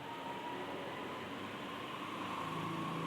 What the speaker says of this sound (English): apologies if you are hearing some, motorcycle or vehicles in the background